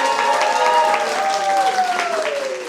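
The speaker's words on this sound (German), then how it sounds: "Einen westdeutschen Applaus für unseren Patrick!" A crowd applauds steadily and loudly at a German comedy game-show event in Cologne, with a sustained tonal sound, like music or cheering, running over the clapping.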